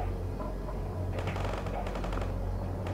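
Rapid small-arms fire crackles from an infantry squad inside a building in World in Conflict, a short, moderately distant burst over a steady low battlefield rumble.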